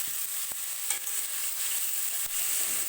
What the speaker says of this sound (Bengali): আমাদের নাড়তে নাড়তে প্রায় শেষের পথে এবার হয়ে এসেছে আমাদের পেঁয়াজ ভাজা